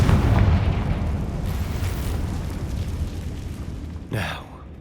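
Confringo blasting spell in Hogwarts Legacy, a loud low rumbling explosion at the start that decays over several seconds, followed by a brief sharp burst near the end.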